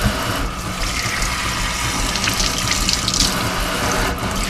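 Steady rush of lukewarm water pouring from a kitchen tap into a sink, continuous and fairly loud with a slight hiss.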